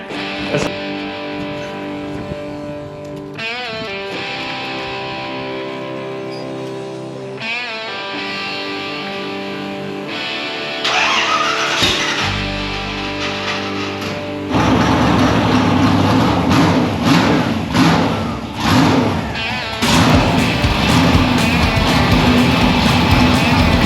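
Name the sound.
1961 Ford F100 Gasser truck with small-block Ford driving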